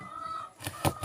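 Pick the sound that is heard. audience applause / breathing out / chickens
chickens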